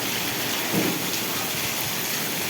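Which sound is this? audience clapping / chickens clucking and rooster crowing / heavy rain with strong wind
heavy rain with strong wind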